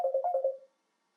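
A short burst of a mobile phone ringtone, a bright electronic warble that fades out within a second, with no voices.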